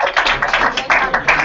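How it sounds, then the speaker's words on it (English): An audience applauds a congressman's arrival, a short burst of clapping rising and falling in uneven waves, fairly close and moderately loud. "Thanks for the applause"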